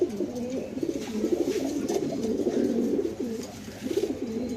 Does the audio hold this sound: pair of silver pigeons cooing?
yes